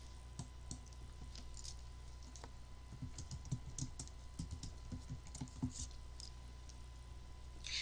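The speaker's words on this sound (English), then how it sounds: "Now type a student's first and last name." Soft, irregular clicking of keys on a computer keyboard, close by and quiet, coming in short bursts with brief pauses between.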